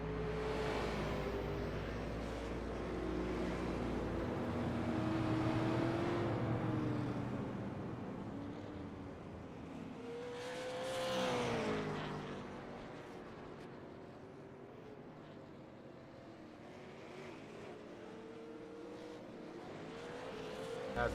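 Race car engines in the iRacing video game drone along under a caution period at Hickory, a continuous moderate hum with pitch rising and falling as the pack of cars swells past and fades.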